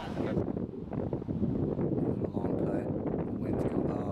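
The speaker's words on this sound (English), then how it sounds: "And you can hear that wind. Yeah, the wind's going." Steady wind buffets the microphone on an outdoor disc golf course at Trojan Park during a championship, a continuous low rumbling roar with faint rustling and no clear speech.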